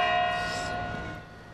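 A church bell rings with a long, sustained metallic hum that decays slowly; only a single stroke of the hour is evident in the short excerpt, and no voices are present.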